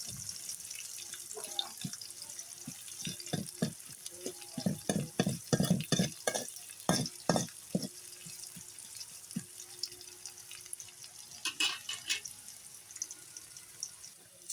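Onions hit hot oil and fry in a close hiss, with a run of clattering stirring strokes in the middle before the sizzle settles to a quieter crackle.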